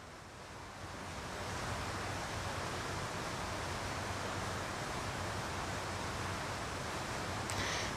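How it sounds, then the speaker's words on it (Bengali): Dried chilli, bay leaf and panch phoron hit hot mustard oil in a pan, giving a dense, continuous hissing sizzle that swells quickly and then holds steady, close and alone. "এবার আমি এর মধ্যে দিচ্ছি একটি শুকনো লঙ্কা, একটি তেজপাতা আর আধা চামচ পাঁচফোড়ন"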